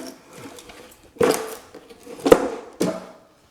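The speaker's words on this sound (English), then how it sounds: "That one also ripped the screws out of the soft pine." Screws tear out of a soft pine pocket-hole joint under load, giving three sharp creaking cracks spaced about half a second to a second apart over faint, quiet mechanical noise.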